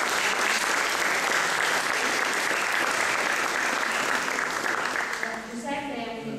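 Audience at a public talk in Jesi applauding a guest speaker, a national campaign coordinator: dense, steady clapping across the whole stretch, easing slightly near the end as a voice begins underneath.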